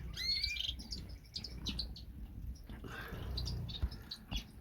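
Pied birds chirp and tweet inside an aviary, several high, quick calls overlapping one another at close range over a low background rumble, with no talking.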